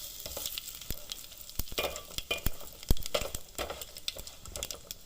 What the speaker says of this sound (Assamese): এতিয়া মই তেজপাত, লং, ইলাচি, ডালচেনি আৰু জিৰা অকণমান দিছিলোঁ। সেইখিনি মই ভাজি ল'ম এতিয়া।